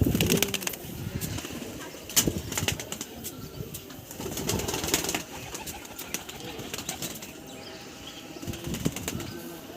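Pigeons being brought out of a loft flap their wings in sharp, close bursts, with scattered soft coos and rustling throughout.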